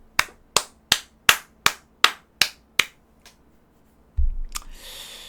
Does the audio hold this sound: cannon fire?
no